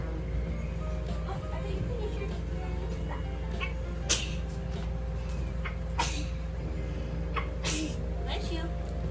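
A single sneeze near a parent tidying a baby's cooling play area at home, standing out over a steady low household hum.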